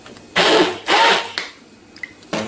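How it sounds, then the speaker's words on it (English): Small stick blender pulsing through ginger pieces, in three short loud whirring bursts separated by brief pauses, close up with no talk. "A little stick blender does a good job."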